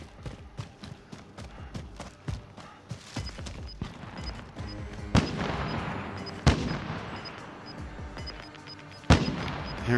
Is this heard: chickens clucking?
no